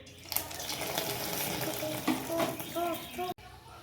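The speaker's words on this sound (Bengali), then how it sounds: "এবার ফুলকপিগুলোকে ওই ব্যাটারে মাখিয়ে গরম তেলে একটু ফ্রাই করে নিতে হবে।" Cauliflower pieces coated in batter fry in hot oil in a kadai, giving a steady close sizzle with some stirring and splashing, and a brief voice rises near the end.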